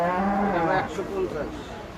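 A cow at the Gabtoli cattle market during Eid gives one long, low moo close by that trails off into busy background market noise.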